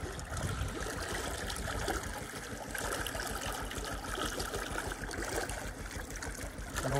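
Steady, continuous gush of water pouring out of a pipe, loud and close, with a constant rushing roar and no talking.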